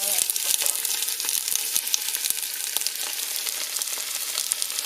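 Leeks frying in hot extra virgin olive oil in a pot for butternut squash soup, a bright continuous crackling sizzle with frequent popping spatters, close and fairly loud, no talking.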